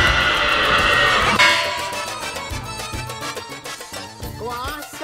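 A horse neighs loudly and close by, a long descending whinny followed by quieter snorting and fading whinnies near the end, with no talk over it.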